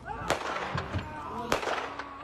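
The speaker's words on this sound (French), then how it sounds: "deux coups de feu sont entendus" Two sharp gunshots during a police confrontation with twins early in the morning in Salluit, Nunavik, recorded on a phone: distant, crackling reports about a second apart over muffled background noise and faint voices.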